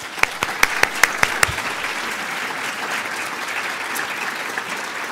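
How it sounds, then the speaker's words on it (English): An audience at a municipal services symposium applauds a community team, several sharp close claps at the start over a steady wash of crowd clapping that continues evenly. "I'd like to give them a round of applause."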